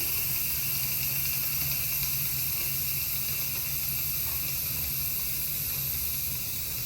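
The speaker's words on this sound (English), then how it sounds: "it is cool enough now that I can go ahead and release the rest of that steam" An Instant Pot pressure cooker, used for chicken stock, vents the rest of its steam after natural release in a loud, steady, unbroken hiss that holds at the same level throughout.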